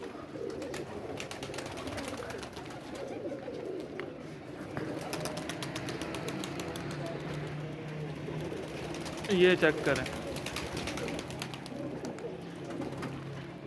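Caged flying pigeons coo in a low, steady murmur throughout, with a brief louder flutter or scuffle partway through, while someone talks over them.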